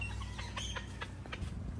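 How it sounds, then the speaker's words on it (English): Several chickens cluck in short, scattered bursts over a steady low hum, fairly close, with no voices. "Shorty, don't chase the chickens, please."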